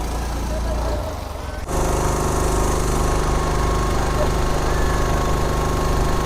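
A boat engine runs during a boat ride: a loud, steady, rattling drone that dips briefly, then returns and holds strong and continuous at close range.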